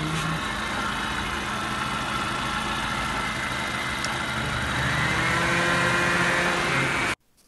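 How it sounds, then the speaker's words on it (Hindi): A Hyundai Santro car engine idles steadily with a low, even hum and a fan whirring over it, the whine shifting slightly before both stop suddenly. "आप गाड़ी के इंजन का साउंड सुन सकते हैं।"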